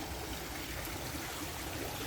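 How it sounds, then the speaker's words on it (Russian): A castle-shaped fountain near the sea in Anapa pours water in a steady, close splashing rush that fills the whole clip without a pause, with no voices over it. "и увидели такой фонтан"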